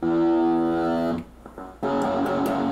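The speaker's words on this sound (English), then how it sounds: "So now if I press this button, changes to distortion" An electric guitar played through a Pedal Pi effects unit with a distortion effect switched on, giving a loud sustained buzzy chord, a short break with clicks, then the distorted tone returning strongly.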